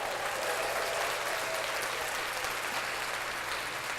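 Faint steady applause on a podcast, heard as a soft continuous wash of clapping at low level with a low hum beneath it.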